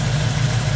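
A car engine idling roughly with a carburetor that needs tuning, a loud, close, low droning rumble with an uneven, slightly pulsing throb.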